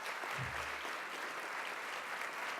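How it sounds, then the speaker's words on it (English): Steady applause at a school board meeting honoring a chemistry and experimental science teacher, a soft even wash of clapping throughout at a modest distance, with a brief low murmur near the start. "let's give him a round of applause"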